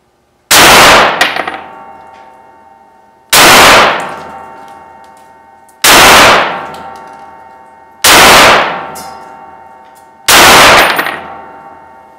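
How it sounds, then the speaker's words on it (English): Five loud, close shots of .308 M80 ball from an 18-inch Kel-Tec RFB slam into an armor plate at 20 feet, each a sharp crack with a ringing metallic clang that decays before the next, spaced about two seconds apart. "so that was 5 more rounds of 308 M80 ball out of an 18-inch Kel-Tec RFB at just 20 feet"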